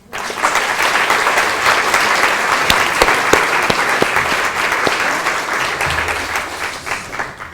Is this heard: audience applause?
yes